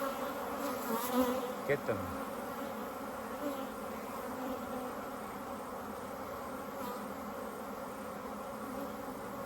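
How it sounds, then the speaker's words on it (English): A swarm of bees buzzes loudly during a hive inspection as many are shaken off a frame and take flight together, a dense continuous drone with a few louder passes early on and a brief spoken phrase. "You shake the bees off and heaps of them fly off all at once"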